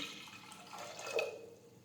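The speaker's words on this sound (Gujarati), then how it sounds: "હવે આપણે બટેટા બાફવા માટે કુકરમાં પાણી ગરમ કરવા મૂકીશું." Water poured into a pressure cooker for boiling potatoes, a brief, soft splashing trickle close by with a slight rise near the end.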